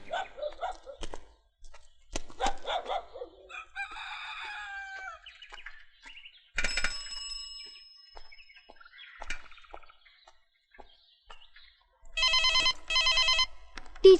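An old-fashioned telephone bell rings in two bursts near the end, preceded by scattered rooster crows, clucking hens and other farmyard sounds in a quiet setting.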